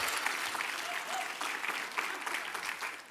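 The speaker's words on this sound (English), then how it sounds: "give our volunteers here a round of applause for their help." A crowd applauding steadily, a dense wash of many hands clapping at once, fairly close and sustained throughout.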